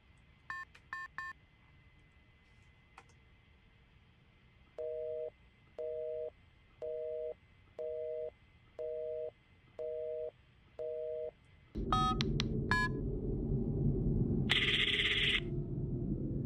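Telephone keypad tones in a video game, with a quick burst of dialing beeps, then a steady row of evenly spaced busy-signal pulses, followed by louder rushing noise and a few more beeps near the end.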